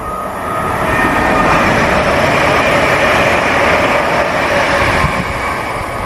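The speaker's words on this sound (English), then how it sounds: "Oh, we got back-to-back HSTs." A British Rail HST high-speed train roars past at close range, a loud, steady rushing rumble that holds for several seconds before easing slightly.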